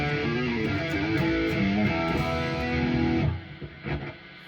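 Electric guitar chords from a 1987 Ibanez Roadstar II RG440 with a humbucker pickup ring through a distorted amp with a steady hum underneath; the playing cuts off partway and the low buzzing pickup hum lingers.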